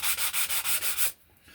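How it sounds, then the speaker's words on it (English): Sandpaper rubbed briskly back and forth over a small wooden dollhouse miniature planter piece, about seven quick rasping strokes in a steady rhythm, close and crisp, then stopping. "smoothly sanding so it really smooths it down"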